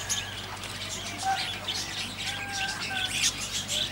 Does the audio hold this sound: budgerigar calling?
yes